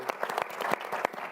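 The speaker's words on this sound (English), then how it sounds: "So maybe a quick round of applause for the great accomplishments" An audience at the Open Forum Riyadh 2024 breaks into a brief round of applause, a dense steady patter of many hands clapping, moderately faint and without talk.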